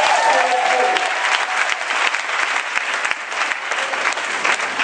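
A church congregation applauds loudly and steadily throughout a worship service honoring the Holy Spirit, the dense clapping filling the room with scattered voices mixed in.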